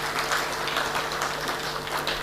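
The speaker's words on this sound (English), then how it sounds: "Can we clap for ourselves for that?" An audience applauds at the launch of Kenya's National Payment Strategy 2022-2025: steady, dense clapping throughout, with a faint voice underneath.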